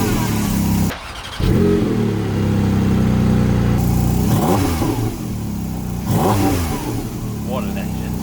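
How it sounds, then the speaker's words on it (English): A Porsche GT3 engine with the exhaust open and PDK in Sport starts up and idles loudly, then revs hard in a couple of rising, snarling bursts, close by with no talking. "let's turn on this beautiful GT3 engine, exhaust on,"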